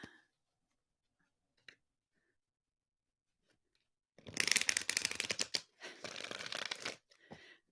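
Tarot cards shuffled and drawn from a deck, a few faint isolated clicks followed by two loud close bursts of riffling and flicking card noise, then a brief soft tap.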